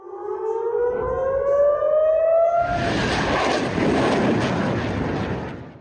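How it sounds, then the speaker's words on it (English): A civil defense siren wails across Jerusalem, rising in pitch, then gives way to a loud, broad rumbling roar that fills the rest of the clip. "The first sirens sound across Jerusalem."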